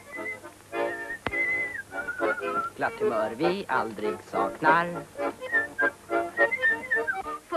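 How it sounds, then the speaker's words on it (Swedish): Several people whistle a cheerful tune in a 1943 Swedish film; the bright, melodic whistling is loud and close, alternating with sung voices. "För vi visslar när vi vaknar."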